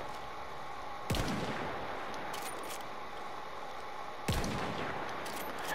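Russian 1895 sniper rifle firing in Battlefield 1, two loud sharp cracks about three seconds apart, each with a booming tail and a metallic bolt clatter, over a steady background hum.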